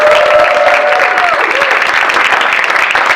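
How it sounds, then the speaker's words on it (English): A live afterhours show audience claps loudly and steadily for the sound crew and cameraman, close, dense applause that stays full throughout, with a brief whistle-like tone early on. "Can we get a round of applause for those people?"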